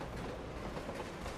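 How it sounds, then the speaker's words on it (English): A train rumbles toward the player in the video game Borderlands 2, a faint, steady broadband roar with a low rattling undertone that holds evenly throughout. "Why is the train coming?"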